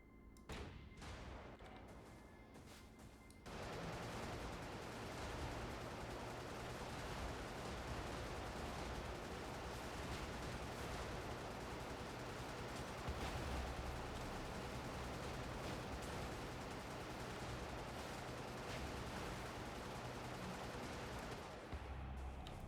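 Heavy, sustained gunfire and thudding impacts from the Brigador video game, a dense unbroken barrage roaring for about twenty seconds after a brief quieter opening.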